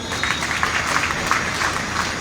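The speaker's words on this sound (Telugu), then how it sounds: "ఓ నిమిషం మీరు చప్పట్లు కొట్టారనుకోండి" Steady applause from an audience at a Sri Sarada Lakshmi Narasimha Swamy temple anniversary gathering, a dense, even patter of many hands clapping throughout, moderately loud with no voices over it.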